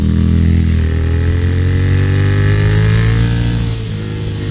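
A supermoto motorcycle, essentially a dirt bike on street tires and suspension, rides past with a loud, close engine drone that shifts in pitch and eases slightly near the end.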